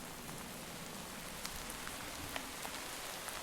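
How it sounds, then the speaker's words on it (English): Heavy rain falls steadily in a video game, a dense, continuous hiss of drops with occasional sharper patters, no voices over it. "God, the rain is so heavy"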